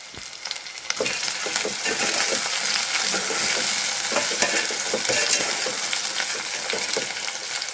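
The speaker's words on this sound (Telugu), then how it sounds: "ఆనియన్ అయితే మంచిగా ఫ్రై అయింది" Onions fry in a pan with a loud, continuous sizzle close by, broken by scraping stirs and light clinks of a spoon against the pan throughout, no voices.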